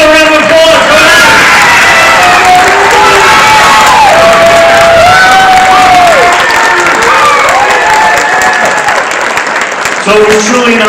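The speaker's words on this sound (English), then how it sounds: "give another round of applause." Loud applause from a big crowd at a board of education meeting, mixed with cheers, whoops and shouting voices, sustained at full volume throughout.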